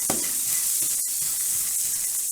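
Chopped onions sizzle steadily in a hot pan for a chorizo breakfast burrito, a close, continuous crackling hiss with a few faint stirring knocks and no talking.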